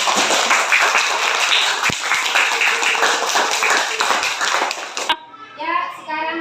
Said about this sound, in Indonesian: kita tepuk tangan dulu untuk Erwan.